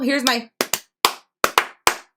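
A person clapping their hands in a quiet room, six sharp single claps in an uneven rhythm, close and loud, following a short burst of speech.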